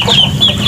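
A chicken clucks in a short, loud burst of close, repeated calls, with no talk over it.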